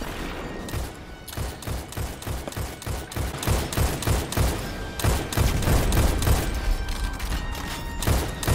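Gunfire in the Destiny Grandmaster Nightfall strike Arms Dealer comes as dense, rapid volleys of shots with thuds and booms, loud and continuous.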